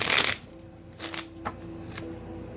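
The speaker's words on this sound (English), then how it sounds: "Let me just shuffle." A deck of tarot cards is shuffled by hand, a quick riffling burst at the start followed by a few lighter card flicks and taps in a quiet room.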